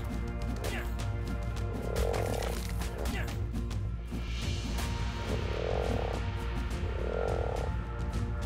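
Beelzebuff frogs in a Halloween video game dungeon croak in a repeated low rhythm over a steady, busy game soundtrack with clanks and hits.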